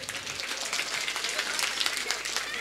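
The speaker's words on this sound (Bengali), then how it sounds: "ওনাদের জন্য একটু হাততালি হোক জোরে" Crowd clapping at an evening gojol competition event, a continuous patter of many hands heard close and fairly loud, with some voices mixed in.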